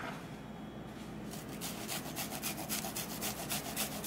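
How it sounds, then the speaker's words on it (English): Raw garlic is rubbed against a grater for a tomato salad. After a quiet start, close rhythmic rasping strokes repeat steadily, about three per second. "I'm just gonna grate it."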